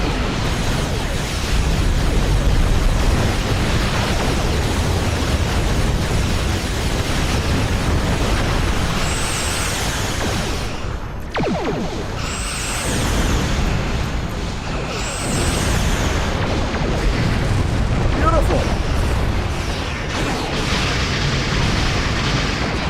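Heavy plasma torpedo explosions rumble through a Star Trek space combat video game, a dense continuous roar of booms and bursts with brief sharper hits and a sudden sweep near the middle, loud and sustained throughout.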